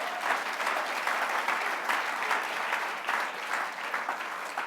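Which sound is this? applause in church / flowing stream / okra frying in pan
applause in church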